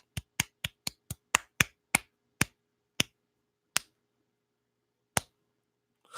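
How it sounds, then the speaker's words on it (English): Sharp, isolated hand claps from a single person on a live talk show, a quick run of about ten evenly spaced claps that slows and spreads out into a few sparse final ones over silence. "let me clap my hands"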